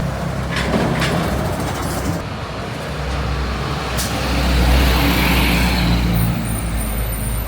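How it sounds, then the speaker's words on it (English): A car pulls up on a street in Mérida, Mexico, its engine rumbling steadily close by amid general traffic noise, swelling a little as it arrives, with no talking. "All right, car has arrived."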